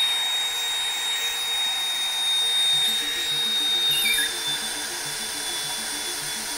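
A drill spins an oak cylinder in a hole at full speed under heavy pressure, with a high whine and a low grinding hum, fairly close and continuous throughout.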